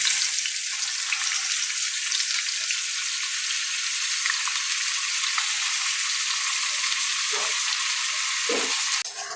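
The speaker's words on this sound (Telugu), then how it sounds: "సో జీరా వేగే లోపల మనం ఈ ఆనియన్స్ని వేసేద్దాం." Chopped onions hit hot oil already sizzling with cumin seeds for a chole curry, giving a loud, steady frying hiss throughout with a couple of brief stirring scrapes near the end.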